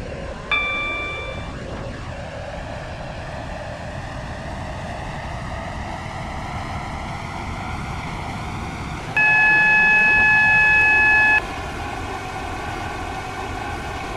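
A Class 350 train in a video game runs toward a station with a constant rumbling hum, a short chime near the start and a louder sustained warning tone midway.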